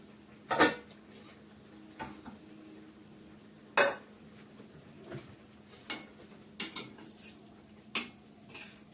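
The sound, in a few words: stirring greens in a heavy wok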